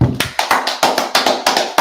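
Rapid claps ring out close and loud during a Sabbath church service, about a dozen sharp hand claps in a quick steady rhythm.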